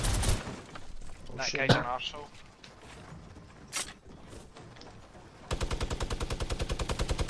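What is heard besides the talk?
gunfire in a shooter video game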